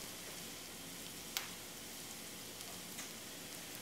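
Garlic frying in a pan: a continuous soft sizzle with a couple of brief sharp pops, faint and even throughout, no speech.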